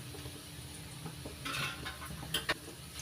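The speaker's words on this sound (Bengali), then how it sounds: "এবার রসুন আর পেঁয়াজ একসঙ্গে ভালো করে লালচে করে ভেজে নেব" Garlic and onion fry together in a pan for jute-leaf dal, giving a quiet sizzle with light stirring scrapes and a couple of sharp utensil clicks near the end.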